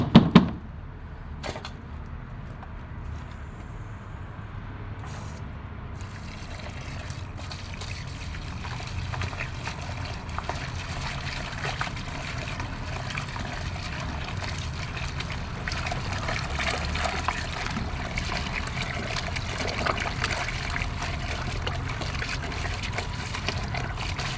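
Water runs and trickles steadily while something is washed and rinsed until the water runs clear, a continuous close splashing flow lasting throughout with no talk.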